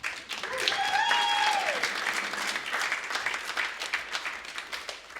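Sustained audience applause fills a comedy show venue, a dense wash of clapping from a crowd that holds steady and tapers slightly near the end, with a brief whoop early on.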